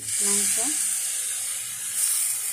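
Precooked meat and potatoes hitting a hot pan while making noodles, a steady bright sizzle that holds for a couple of seconds, with a brief voice near the start.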